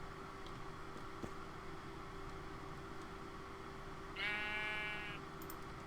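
A sheep in the Minecraft Sevtech Ages modpack gives a single short, clear bleat near the end over a faint, steady background hiss.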